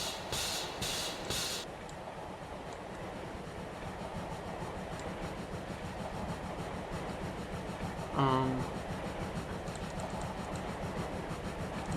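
A train rolling through Trainz Railroad Simulator 2006, a steady low rumble with faint clickety-clack under game ambience and a brief tonal chirp partway through, continuous and moderately loud.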